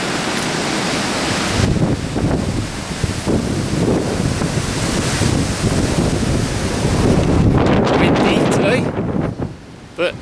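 Strong wind buffets the microphone outdoors on a sunny day at a hospital grounds in North Wales, a loud, continuous rumbling roar with gusty swells that eases near the end.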